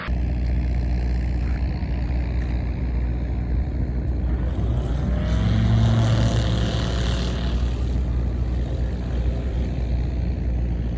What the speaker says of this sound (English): a small aircraft landed at Arrow Acres Residential Air Park with its landing gear still retracted